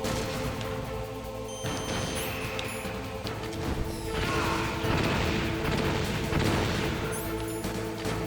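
Missile explosions in the video game Metal Gear Solid, during the Metal Gear REX boss fight: dense, continuous crashing blasts and booms over a steady bed of game music and machinery, loud throughout with no talk.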